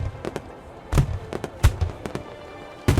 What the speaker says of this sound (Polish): Słychać fajerwerki w tle.